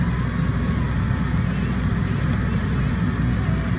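A Ferrari 458 Italia engine drones as a steady, strong low rumble heard from inside the car, continuous and even, with no talk over it.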